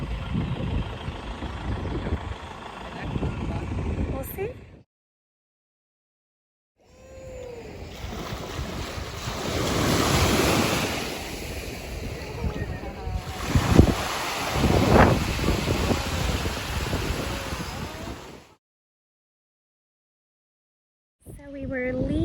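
Waves and wind at a hidden locals' beach on Curaçao give a steady broadband roar in two long stretches, split by short silent gaps, with gusts swelling midway and a voice briefly heard.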